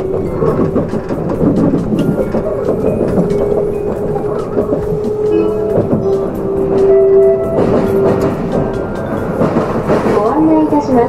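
Kirishima limited express train bound for Miyazaki, heard from on board as a loud, steady rumble with clattering wheel noise and a sustained tonal hum, while an announcement voice speaks over it.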